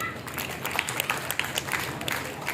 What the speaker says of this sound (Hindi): उन सभी के लिए हम एक जोरदार तालियां बजाएं